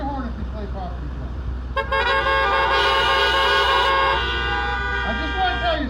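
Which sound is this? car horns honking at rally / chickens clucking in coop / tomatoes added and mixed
car horns honking at rally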